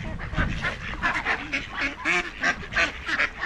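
A flock of ducks quacks and honks continuously at feeding time, close and busy, with overlapping calls in a rhythmic chatter.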